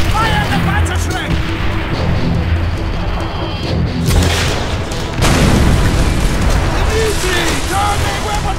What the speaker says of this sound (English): Fire the Panzerschreck!